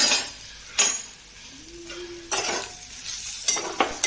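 Onion fries in oil in a pan, stirred with repeated scraping sweeps and metallic clinks over a low, steady sizzle, with a brief faint tone in the middle.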